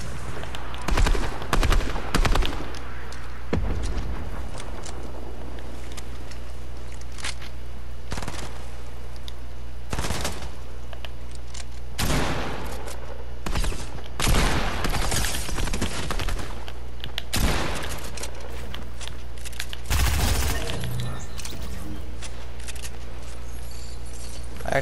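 Scattered bursts and single gunshots from Call of Duty Modern Warfare, loud sharp cracks separated by quieter gaps, with a steady low hum running beneath and no talking.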